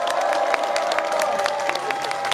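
Spectators clapping and cheering for a traditional Korean lion dance at a banquet reenactment, with steady crowd applause and rising shouts over a constant held tone in the background.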